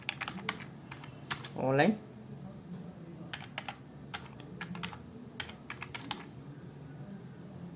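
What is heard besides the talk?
typing on a computer keyboard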